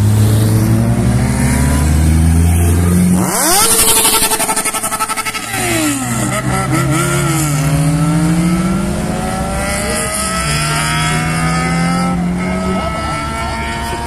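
Several turbocharged VW Gol cars accelerate hard out of a gas station, loud engines revving up and shifting through gears with rising and falling tones across the whole stretch, one car passing close midway.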